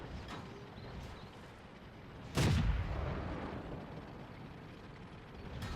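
An FV304 self-propelled artillery gun fires in World of Tanks, one sudden loud boom that dies away into a long rumbling tail over steady ambient battlefield noise.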